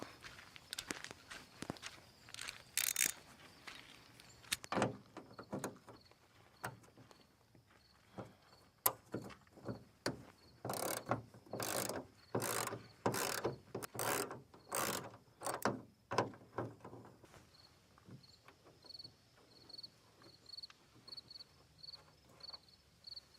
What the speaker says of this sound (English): Grabbing this wrench with, I think it's a 10mm socket.